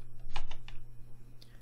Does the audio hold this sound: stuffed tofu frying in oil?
no